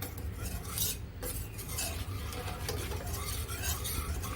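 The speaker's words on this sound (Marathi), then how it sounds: "हे सगळं आपल्याला व्यवस्थित मिक्स करून घ्यायचं आहे अगदी त्याच्या गाठी झाल्या नाही पाहिजे" A milk mixture being cooked into a sweet is stirred in a pan over the gas, with a continuous scraping, swishing rhythm and a faint low hum underneath, close to the microphone and without speech.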